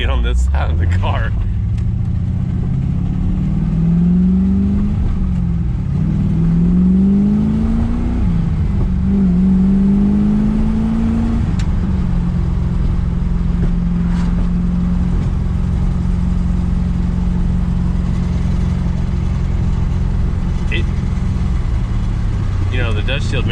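An LS-swapped 1992 Mazda RX-7 FD with a Holley Terminator X runs loud and close, blipping through several quick revs before settling into a rough, uneven idle, with someone talking over it.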